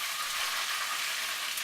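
Bream fillets fry in hot oil with a steady, dense sizzle and crackle, close up and continuous, with no voices.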